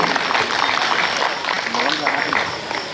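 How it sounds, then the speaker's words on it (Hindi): Audience applause at a Hindi poetry recital (kavi sammelan) at a temple gathering, a sustained dense clapping that rises and falls over about three seconds, with a voice briefly heard through it. "यदि अच्छा लगा हो तो ताली जरूर बजाइए।"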